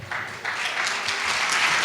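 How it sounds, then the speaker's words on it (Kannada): A crowd at a Christmas celebration and cultural program claps steadily, a dense, even applause that swells slightly and holds for the whole moment, with no one speaking. "ಜೋರಾಗಿ ಚಪ್ಪಾಳೆ"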